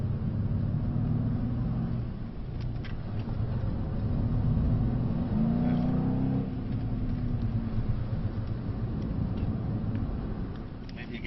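A 2024 Mercedes C63s driving around a track, heard from inside as a steady engine drone that swells and eases with throttle, with an instructor's voice talking over it at times.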